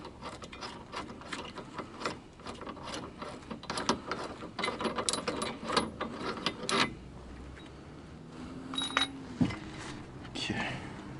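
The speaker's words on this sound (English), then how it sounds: "Just take this bolt back out." Bolt removal during a coilover install on a 2010 Mini Cooper S with rusty parts: rapid ratcheting clicks and metallic clatter from a hand tool, close and busy for several seconds, then scattered taps, with a voice briefly.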